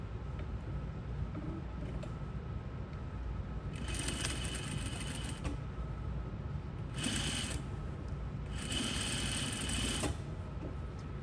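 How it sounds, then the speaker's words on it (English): A sewing machine stitches a boning channel in fabric, running in three separate bursts of close, buzzing stitching over a low background hum, with quiet pauses between runs. "I'm gonna stitch about maybe 2-3 inches before I get to the end, and I'm gonna stop"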